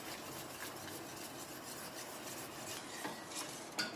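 Faint, continuous scraping and swishing of a utensil stirring a yogurt and water mixture for kadhi in a bowl, with light clicks against the side toward the end.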